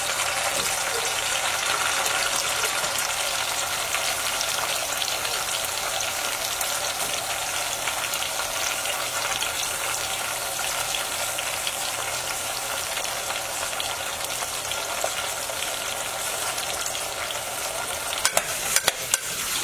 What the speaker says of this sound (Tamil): அதுக்கப்புறம் ஏற்கனவே நான் கட் பண்ணி வச்சுருக்க பெரிய வெங்காயத்தையும் ஆட் பண்ணுறேன்